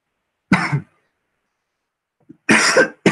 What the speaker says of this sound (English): Sorry, guys, for coughing